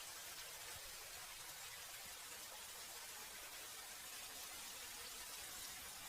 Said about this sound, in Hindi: अगले दिन जंगल में तेज बारिशें शुरू हो जाती हैं।